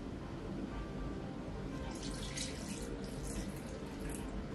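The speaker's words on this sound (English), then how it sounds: "I'm gonna rinse the pot, put it back on the stove" Tap water runs steadily into a pot being rinsed in a kitchen sink while making Japanese honeysuckle syrup, a constant close hiss and splash with brighter spatter partway through.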